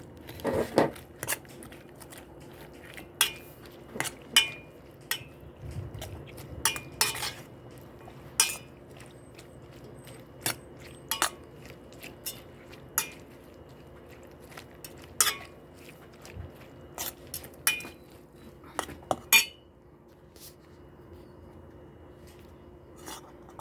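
Katuray flower salad being tossed with vinegar and salt, a spoon or utensil clinking and scraping against a bowl in irregular taps and scrapes, fairly close, with no talking.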